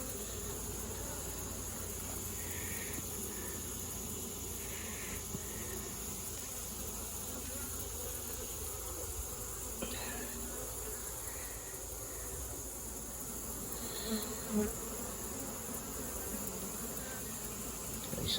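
Honey bees humming at an open colony with brood and a queen, a steady low drone running throughout, faint and even, with no voices over it.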